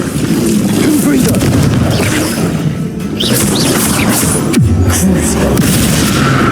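Fire-spell explosions going off in the Hogwarts Legacy video game, loud booming blasts packed densely over continuous combat noise, with a sharp crash near the end and voices calling out spells throughout.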